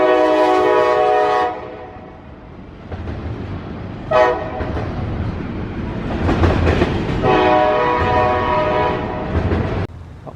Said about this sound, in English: I'm back here by the train tracks watching fucking just trains go by while I got nothing else to do